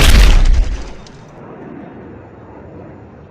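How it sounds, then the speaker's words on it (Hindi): A loud, deep boom from a Tejas jet crash at the Dubai Airshow bursts out at the start, then fades into a long rumbling decay. "और फिर एक जोर का धमाका"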